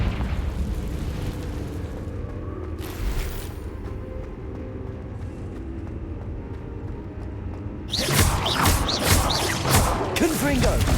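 Confringo fire spell blasts in Hogwarts Legacy, a loud explosive burst around the three-second mark and then a sustained, crackling eruption of booms from eight seconds on, over rumbling game ambience.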